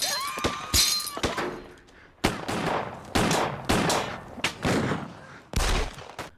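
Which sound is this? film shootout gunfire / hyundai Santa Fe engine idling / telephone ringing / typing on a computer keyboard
film shootout gunfire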